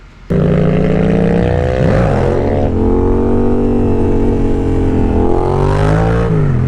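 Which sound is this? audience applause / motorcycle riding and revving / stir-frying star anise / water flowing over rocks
motorcycle riding and revving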